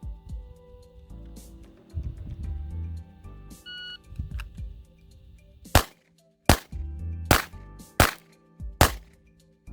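A Walther PDP compact pistol fires five sharp, loud shots one-handed during an IDPA classifier stage. The shots come in a quick, fairly even string after a stretch of quieter handling noise.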